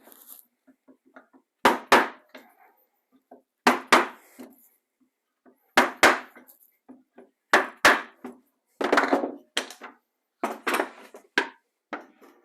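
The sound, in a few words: punching pilot holes through a template into wood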